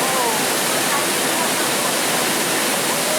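A waterfall in La Union, Philippines, producing a steady, dense roar of falling water close by, unbroken for the whole moment.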